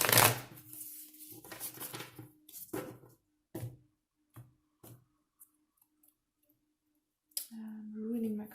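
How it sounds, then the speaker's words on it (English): Tarot cards being shuffled in short riffling bursts with sharp clicks and pauses, a voice speaking briefly near the end. "I'm ruining my cards with the way I shuffle"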